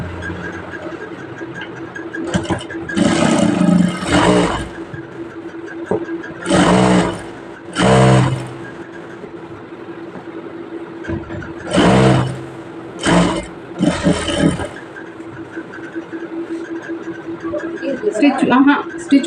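A sewing machine stitches a chudithar pant in several short whirring runs of a few seconds each, broken by pauses, while a person talks throughout.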